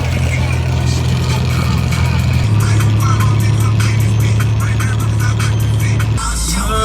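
Steady, loud engine drone and road rumble from inside a car on a drive home, holding one tone before shifting lower near the end, with no clear talking.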